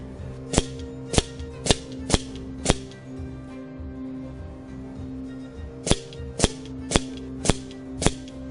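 A Benjamin Trail NP .22 air rifle firing JSB 15.9 grain pellets cracks out ten sharp, close shots in two evenly spaced strings of five, separated by a short pause.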